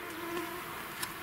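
Mosquitoes and other insects whine in the taiga at night, a thin steady buzz running through the whole stretch, with a couple of faint clicks toward the end and no voices.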